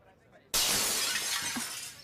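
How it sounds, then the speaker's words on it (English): A mirror shatters suddenly with one loud crash, and a spray of breaking glass and tinkling shards fades out over about a second and a half in an indoor hospital setting. "The patient has smashed the mirror again!"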